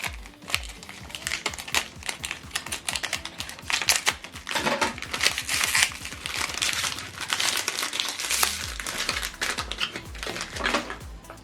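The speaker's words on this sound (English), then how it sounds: "so pull off this plastic" Plastic wrapping is peeled and crinkled off HP ink cartridges for a Deskjet printer, a close, continuous crackling and tearing that rises and falls for several seconds with no talk over it.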